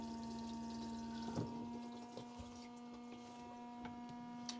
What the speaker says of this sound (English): it also turns on a fan which is located underneath the toilet bowl